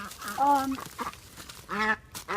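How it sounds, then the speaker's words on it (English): A flock of ducks quacking in a few loud, close bursts with short gaps between them, carrying clear harmonic honks. "this is the flock, and then this little duckling right here, the lone duck"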